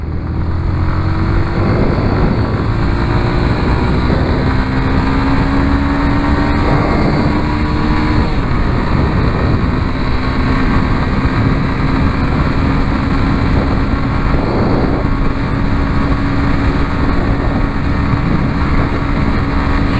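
A motorcycle accelerates along a potholed highway, its engine whine rising through the gears over constant loud wind roar, close and continuous with no talking.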